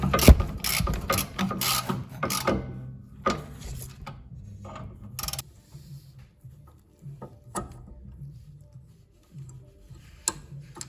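A ratchet tightens the rear brake caliper nut on a car, giving close bursts of rapid clicking followed by sparser single clicks and pauses.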